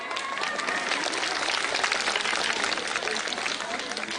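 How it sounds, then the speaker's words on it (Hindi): Outdoor crowd clapping for the chairman at a political rally, a steady dense wash of many hands with mixed crowd voices throughout. "इसलिए एक बार अध्यक्ष जी के नाम पर ताली बजाइए"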